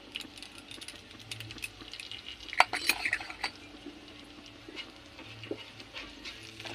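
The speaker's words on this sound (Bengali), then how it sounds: "এখন আমি তেলের মধ্যে অল্প শুকনো লঙ্কা দিয়ে দিব, এই যে পাঁচফোড়ন দিয়ে দিলাম, অল্প অল্প হিংও দিয়ে দিব।" Dry red chillies, panch phoron and a pinch of hing dropped into hot oil give a soft, close sizzle with a brief burst of crackling and a few metal clinks of a spoon against the pan.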